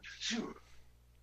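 A single person's sneeze, a short sharp burst of breath and voice close to the microphone, fading quickly into quiet room tone.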